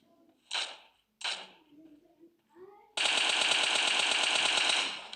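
Gunfire in the PUBG Mobile video game: two single shots, some quieter game sounds, then a long, loud burst of automatic fire that runs for about two seconds.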